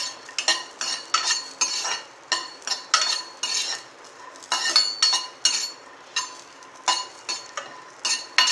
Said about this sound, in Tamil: ஃபஸ்ட்டு வந்து தேங்காய்ச்சில் லைட்டாக அந்த ஈரவாடை போகிறதுக்கு வறுத்துக்கிடுவோம்.